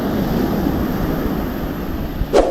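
Blustery wind over the sea blows in a continuous broadband rush with waves beneath it, steady throughout, ending with a brief sharper gust or knock near the close.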